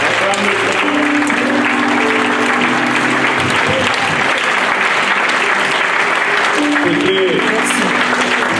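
A church congregation applauds loudly and continuously at close range, giving a dense, even wash of clapping that lasts throughout. Faint voices and music sit beneath it.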